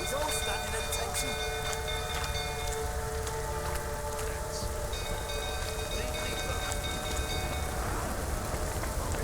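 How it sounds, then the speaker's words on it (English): Rain falls steadily in the video game Witcher 3, a constant, dense hiss of drops on surfaces under game music and faint voices. "Looks like rain."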